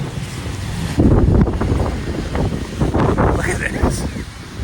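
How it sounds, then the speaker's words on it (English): Strong wind roars outdoors in buffeting gusts, loudest near the start and again around the middle, with microphone rumble throughout; someone speaks briefly over it. "It's really windy out."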